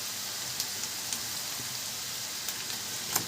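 Chicken pieces frying in a pan, a steady soft sizzle and hiss with a few faint pops, fairly quiet and continuous, no voices.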